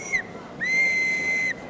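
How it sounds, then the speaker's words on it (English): An antique auctioneer's whistle, used to call order in an auction room, gives a short piercing blast and then a longer steady shrill one, loud and close. "The whistle."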